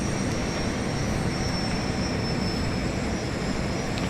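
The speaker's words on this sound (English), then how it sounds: "I can turn the plane the way I want to now." Airplane engine in a flight simulator, a steady, even droning roar that holds constant throughout with no talking.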